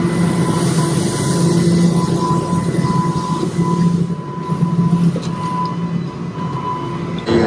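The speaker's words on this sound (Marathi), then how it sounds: "ट्रेन चालली आहे आमची." A Toronto TTC subway train running, a loud steady rumble of wheels on rails with a sustained tonal hum and faint squeals, heard from inside the moving car without talking.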